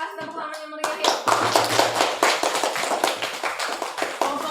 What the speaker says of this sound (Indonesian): Kita kasih tepuk tangan yang meriah ya